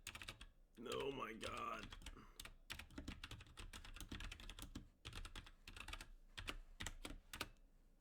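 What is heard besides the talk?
typing on a keyboard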